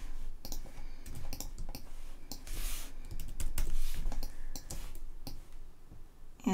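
Steady typing on a computer keyboard: dense, fast key clicks with irregular rhythm, close and moderately quiet, with no talk.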